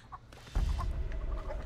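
Chicken clucking in the Texas Chainsaw Massacre video game, brief short clucks heard over a loud low rumble of game ambience that swells in partway through.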